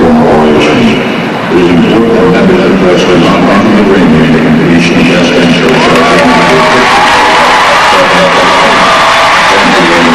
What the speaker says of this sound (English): A nice response from the crowd here